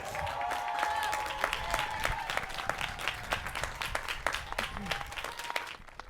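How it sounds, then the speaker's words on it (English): A graduation crowd at a community college ceremony breaks into sustained applause, thick continuous clapping with a few sharper claps standing out and a faint voice briefly underneath. "Let's give her another round of applause."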